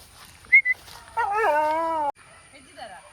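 A dog whimpers and whines in a garden, giving two short yips and then a drawn-out falling whine lasting under a second, close by, with faint voices around it.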